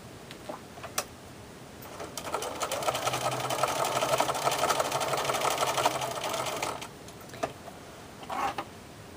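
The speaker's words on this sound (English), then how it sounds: "You're going to start sewing on the side that has the little notches." A sewing machine stitches a seam through two pieces of fabric laid right sides together, running steadily for about four seconds with faint handling clicks before and after.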